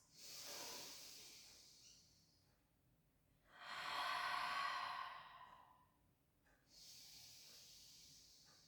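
Slow, deep breaths fill a quiet room during a supine spine stretch in a Pilates flow: a soft airy exhale, a fuller breath swelling and fading, then another gentle breath, close and unhurried.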